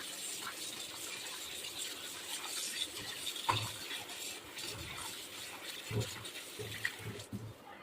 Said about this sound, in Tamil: தண்ணி ஊற்றிட்டு